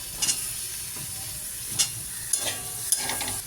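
Eggplant pieces tipped into a pan of fried spice paste with chili powder give a soft, continuous sizzling hiss, broken by a few light clicks and pops.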